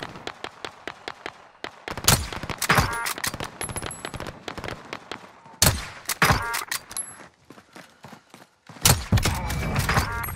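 Bursts of rapid automatic gunfire in Call of Duty: Warzone on Rebirth Island crackle sharply in clustered volleys, loud and close, with short gaps between the exchanges.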